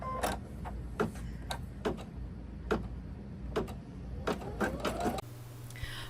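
An embroidery machine stitches an applique design with a steady run of sharp mechanical ticks and clacks at close range, ending in a brief softer whir.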